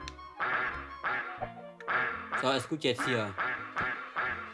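Ducks quack in the SNES game Pinocchio, short nasal calls repeating close up among game effects while someone talks over them.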